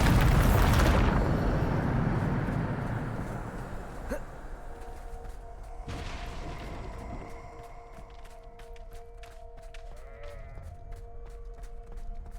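A Bombarda blasting spell explodes in Hogwarts Legacy with a loud, broad boom that slowly rolls away. A second, sharper blast follows later, and then faint clicks and tones trail off.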